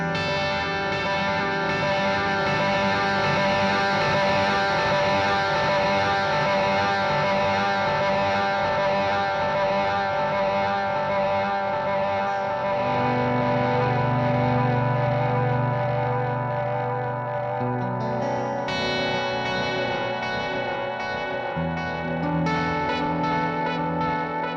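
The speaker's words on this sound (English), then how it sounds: "let me have more repeats, like self-oscillating on the edge" Tape echo unit pushed to many repeats, hovering at the edge of self-oscillation, giving a dense, sustained wash of layered echoes with distorted, swelling low tones that shift partway through, loud and continuous without speech.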